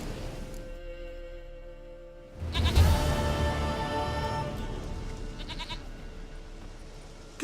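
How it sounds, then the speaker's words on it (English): A goat bleats in The Witcher 3, a few wavering cries rising out of a quiet game ambience, close and fairly loud, with no talking. "Goat of mine, dearest,"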